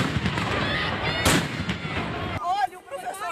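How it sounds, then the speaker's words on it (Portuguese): Tear gas bombs burst during a teachers' protest in Paraná, Brazil. Booming blasts rumble under agitated voices, and a sharp bang rises near the middle before the noise drops into quieter talk. "O barulho de bombas explodindo não para."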